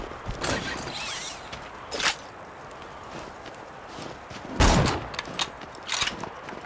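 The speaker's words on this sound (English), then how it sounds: "Just testing out the guns" Guns firing in Borderlands 2 with the Exodus mod, a handful of sharp, separate shots spaced irregularly over several seconds, the loudest one near the end, with quieter clicks and handling noise between them.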